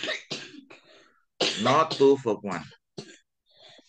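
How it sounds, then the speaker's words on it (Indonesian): A child coughs close by while an adult teacher speaks during an English test-prep lesson, the short rough coughs mixed in with the talk. "ini anak saya lagi batuk"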